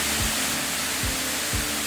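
Karmon waterfall in Biak, about 20 meters high, pouring into the river below: a dense, steady roar of falling water with a few low thumps underneath, no voices.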